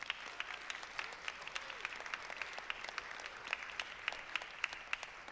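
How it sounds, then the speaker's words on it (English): An audience at an evening stage takeover show breaks into steady applause, dense overlapping clapping from many hands at moderate distance, continuing evenly throughout with no voices on top. "So should we give them one more round of applause?"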